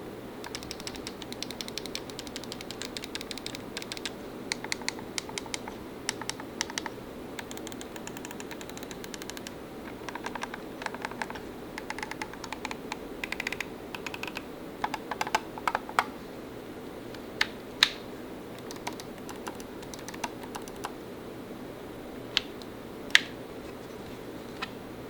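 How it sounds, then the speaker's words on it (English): Button clicks from a Razer Wolverine 3 Tournament Edition game controller come as a dense, rapid patter of small close taps and clacks, with occasional sharper clicks standing out, and no talking. "Here's the Razer Wolverine 3 Tournament Edition. Same thing, we'll just shut up and see what it sounds like."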